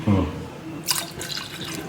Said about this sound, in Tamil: 1 டம்ளர் தண்ணி, இப்போ 1 டம்ளர் பால் விட்டுக்கிறேன்.